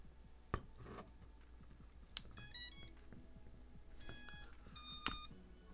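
A few soft clicks, then a series of bright electronic startup beep bursts from a Diatone Mamba drone's electronics in short groups, tonal and clear against a quiet background.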